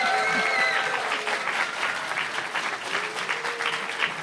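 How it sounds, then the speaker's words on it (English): An audience at a live children's storytelling show claps in a steady sustained round, a broad even wash of many hands with a few faint tonal sounds early on. "Another round of applause, please, for Rebecca and Eric"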